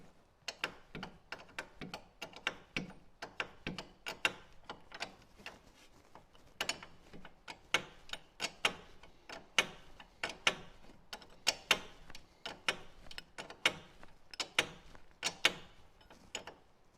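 Bolts are tightened by hand with a ratchet during a front bearing replacement on a Mitsubishi Colt, giving a long series of sharp, close metallic clicks in uneven rhythmic bursts with short pauses.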